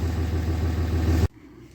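A Dodge truck engine idles with a deep, steady rumble close by, then cuts off sharply near the end, leaving only faint background.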